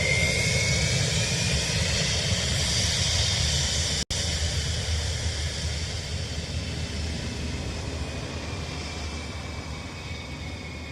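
At Dublin Airport, a jet aircraft, noted with a crooked nose cone, roars loudly and continuously, with a broad steady engine rumble and a faint high whine that fades slightly toward the end.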